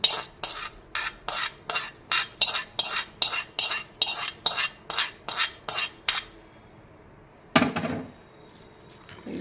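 A spoon stirs and mixes kosambari salad in a bowl with about a dozen quick, evenly spaced strokes, close and clear, then a short pause before one more scrape.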